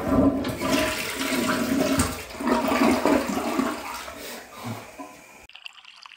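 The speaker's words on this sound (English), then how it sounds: "Flush it all down the toilet!" A toilet flushes in a loud, close rush of swirling water for about five seconds, then cuts off abruptly.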